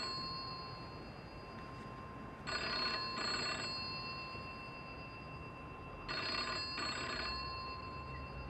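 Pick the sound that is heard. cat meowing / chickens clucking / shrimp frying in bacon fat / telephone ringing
telephone ringing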